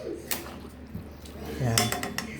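Pork sinigang being stirred in a cooking pot, with metal utensil scrapes and clinks against the pot over a steady background and a louder clatter near the end.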